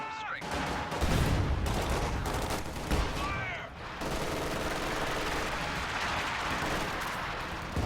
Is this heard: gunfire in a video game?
yes